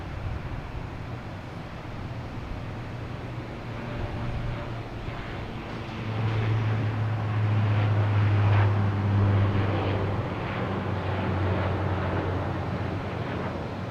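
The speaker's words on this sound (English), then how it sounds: "Next to arrive is Air Portugal and A321neo coming in from Lisbon." An Air Portugal Airbus A321neo jet arriving from Lisbon at Boston Logan Airport gives a low, distant engine rumble that swells noticeably midway, holds loudest for a few seconds, then eases slightly, with wind buffeting and no talk.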